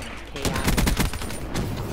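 Game gunfire in Call of Duty Black Ops III, a loud, close burst of rapid automatic shots that rattles on for over a second, then a brief pause and a further shot.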